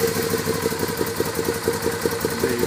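A Moto Guzzi V7 Racer engine idles steadily nearby, cold-started, with a rapid, uneven chug and a low mechanical throb throughout, no voices.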